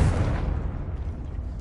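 A Confringo spell blast from a Harry Potter video game: a loud, booming explosive burst at the very start that decays into a rumbling low tail, alone without talk.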